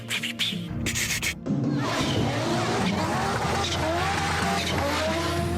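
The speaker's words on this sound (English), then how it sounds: "The wastegates would open and it would flutter." An Audi quattro with a turbocharged five-cylinder engine races past close by. Its loud engine and screeching tyres are followed by the rapid chattering flutter of the wastegates as the driver lifts off the throttle.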